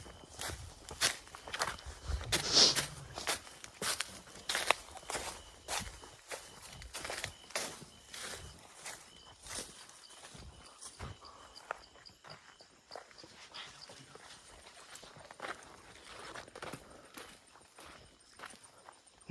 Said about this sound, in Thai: มีเสียงเดินด้วยพี่